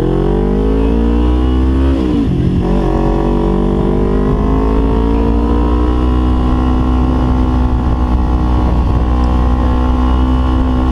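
A 2012 Kawasaki Ninja 250 motorcycle fitted with a Yoshimura exhaust revs loudly close by, its engine pitch climbing and falling steadily throughout.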